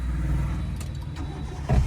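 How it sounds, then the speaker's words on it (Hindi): A car engine cranks and catches when the key is turned during a first driving lesson, with a steady low rumble throughout and a louder surge near the end as it fires up. "अब क्लच दबा के इंजन ऑन करो, की को आगे घुमाओ"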